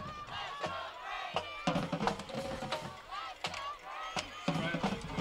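Crowd and marching band cheering at a high school football game before a field goal attempt, a lively roar with shouts, claps and sharp drum-like hits scattered throughout, and an announcer's voice over the noise.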